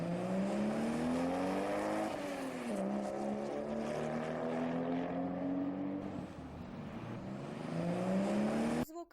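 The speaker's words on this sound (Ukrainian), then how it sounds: "Це звуки машини." A loud engine drones steadily with rising and falling pitch, like a vehicle revving and shifting close by, with no voices.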